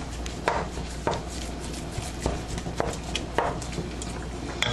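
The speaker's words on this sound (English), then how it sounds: "Now I'm just breaking up the hamburger before I add the seasoning." Raw hamburger meat is broken up in a pan with olive oil on an unlit stove, heard as a series of evenly spaced, close thuds and knocks of a utensil against the pan with no talk.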